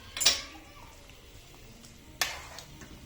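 Cauliflower, cabbage and carrot being stirred in a pan, with a couple of clinking spoon scrapes against the metal spaced well apart over a faint background hiss.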